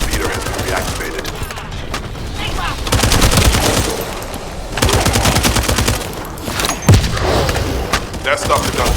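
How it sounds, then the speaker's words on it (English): Rapid gunfire bursts from the video game The First Descendant, with dense machine-gun fusillades and booms, loud and sustained across the scene over background game sounds. "That stopped the gunfire."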